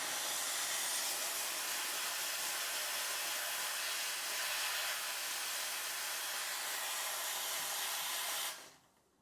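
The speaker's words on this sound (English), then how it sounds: "the cool thing about the steam wand is the fact that it is a no burn steam wand" A Rocket R58 espresso machine's no-burn steam wand hisses steadily and loudly for several seconds, a broad rushing jet of steam that cuts off abruptly at the end.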